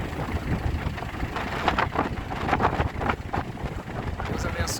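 Strong wind buffets the microphone at the coastal breakwater in Laguna, a loud continuous rushing roar with gusty bursts throughout, as boats head out to sea.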